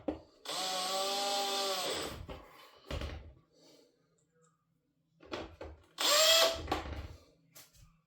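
A power screwdriver drives screws into the bottom plate of a Roborock 5 robot vacuum in two loud, whining bursts, separated by quiet pauses with faint handling clicks and thumps.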